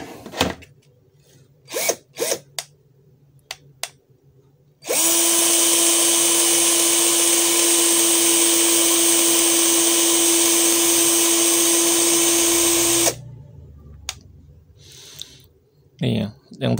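ZPER 21V cordless impact drill spinning at its lowest speed setting, a loud steady whine held for about eight seconds, framed by scattered clicks and handling knocks and a voice speaking before and after.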